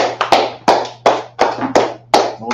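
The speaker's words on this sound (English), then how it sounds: "clap it up for the class" Sharp, sparse claps sound during an online class session, about seven distinct hand-claps in a loose rhythm, loud and close with a faint steady hum underneath.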